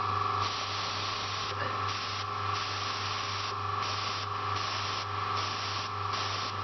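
A smooth, steady rush of air from an airbrush at about 20 psi, faint and continuous with slight pulsing, over a low mains hum.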